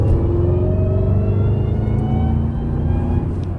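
A Dodge SRT with over 800 horsepower accelerates hard, its loud, deep engine roar filling the cabin with a steady rumble and rising whine that eases only slightly toward the end, with no talking.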